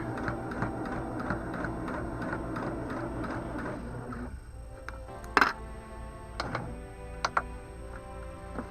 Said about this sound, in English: I'm sewing slowly down through here